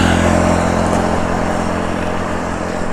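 A group of motorcycles passes on a road. Their engines make a loud, steady, close drone that fades slightly toward the end, with no voices over it.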